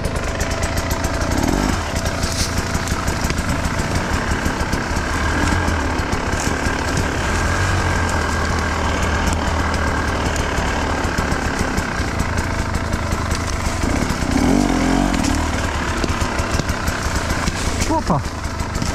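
A KTM EXC 300 TBI two-stroke enduro motorcycle ridden on a hard enduro trail, its engine revving and burbling continuously up close while a rider talks over it.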